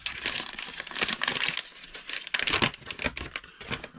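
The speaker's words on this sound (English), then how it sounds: "So into a plastic bag," A plastic bag holding flour and herbs and spices is handled in a boat galley, giving a steady, close crinkling and crumpling that runs throughout with no talking.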